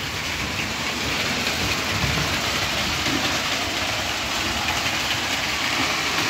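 A steady, continuous rumbling whir of a small train running along its track, even and unbroken throughout, with no talking.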